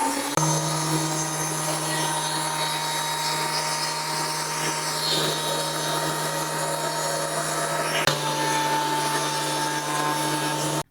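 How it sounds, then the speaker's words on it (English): A benchtop thickness planer with a fault runs alone, giving a steady mechanical drone with a sustained motor whine and a faint change in tone partway through. "I'll show you what this planer sounds like right now and the problem I'm having with it."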